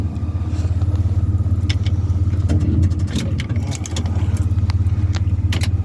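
A 1979 Chevy K20 Stepside pickup truck, old and reluctant, cranking on a cold start attempt with a rhythmic, pulsing starter churn that briefly falters midway, then resumes, with a few faint clicks and rattles.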